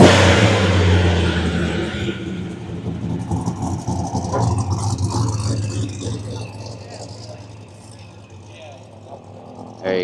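Cars, including a Porsche and an Acura NSX, pull out of a Cars & Coffee show, engines rumbling and idling steadily nearby, with crowd chatter over the top.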